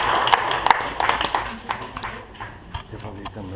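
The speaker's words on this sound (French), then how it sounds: "On peut l'applaudir?" Audience applause at a French stage hypnosis show: uneven, moderately loud clapping with sharp individual claps standing out, tapering slightly, with voices mixed in underneath.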